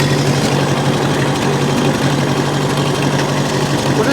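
A tractor engine runs steadily at close range, a loud continuous low drone with a faint rhythmic pulse and no change in pace, heard alone with no voices.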